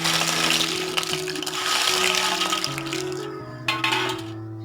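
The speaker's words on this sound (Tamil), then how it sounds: "இப்போ இதோட சவுண்டு கேட்டாலே உங்களுக்கு தெரியும் இது எந்த அளவுக்கு நல்லா மொறுமொறுன்னு இருக்குது" Crispy fried rice-flour chips crackle and crunch as they are handled and broken, giving a dense, bright, close rattle of snapping pieces. A faint steady tone sits underneath, and the crackling thins out near the end.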